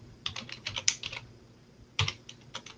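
Bursts of keys clatter on a computer keyboard nearby, one quick cluster of taps, a short pause, then a second shorter flurry of typing.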